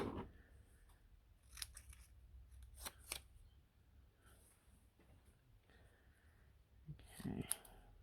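Scissors cut paper for a miniature room in a few separate, close, crisp snips spread apart, with quiet rustling between them.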